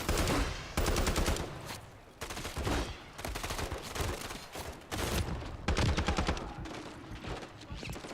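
Rapid bursts of automatic gunfire from Price in the Modern Warfare III video game, loud and close, repeating in dense volleys separated by brief pauses.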